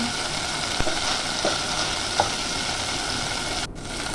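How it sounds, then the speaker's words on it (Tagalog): Chicken with black pepper frying in a covered pan for chicken mushroom, a soft steady sizzle with a few faint clinks, heard up close with no talk. "Ipapay natin konti ang ating chicken"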